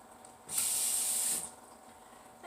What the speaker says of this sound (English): So I'm just going to add a little water.